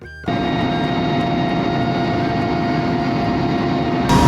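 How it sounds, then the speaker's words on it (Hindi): Loud, constant roar of a Mi-172 helicopter's engine and rotor, heard from inside the cabin in flight, droning steadily and close throughout with no pauses. "हेलीकॉप्टर में एक दिक्कत ये रहता है कि जो रोटर का साउंड है ना वो बहुत ज़्यादा है"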